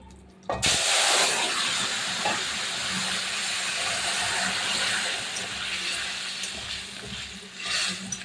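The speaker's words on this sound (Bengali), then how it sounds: "লাল হয়ে গেছে এবার নামিয়ে রাখা তরকারিটা আমি দিয়ে দিচ্ছি" Tender pumpkin curry with singhi fish hits hot oil with a sudden loud hiss, settling into a steady, strong sizzle that carries on to the end.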